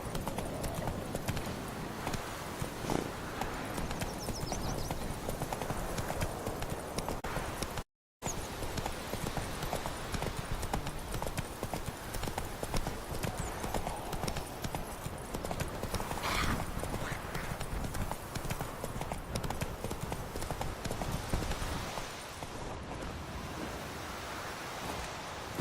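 Horse hooves trot with a steady clip-clop rhythm in The Witcher 3, loud and continuous across a noisy outdoor soundscape, broken by one brief dropout.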